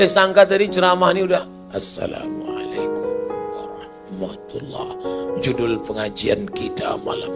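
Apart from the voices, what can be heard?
No distinct noise like a dog, phone or traffic.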